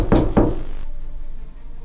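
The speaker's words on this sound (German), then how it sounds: "Wo kam das Klopfen her? Hallo? Hat jemand geklopft?" Two quick, loud knocks on a door in GTA 5, a video game, land close together and are followed by a quiet room tone.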